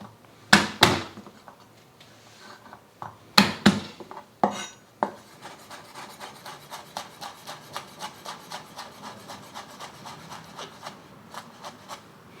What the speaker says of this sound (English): I've got 2 cloves of garlic that I'm just going to chop up